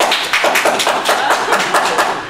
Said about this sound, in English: Clap if you would, please.